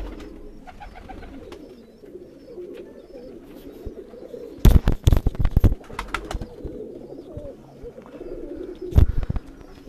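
Pigeons in a rooftop loft coo in low, rolling bursts throughout, with louder flutters and clatter of wings breaking in around the middle and again near the end.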